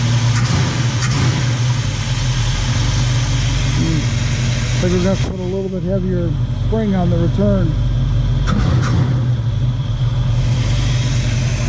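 A '71 Mustang's 351 Cleveland V8 with an Edelbrock carburetor idles loudly and steadily as its RPM is brought down, a deep continuous rumble up close, with someone talking over it throughout.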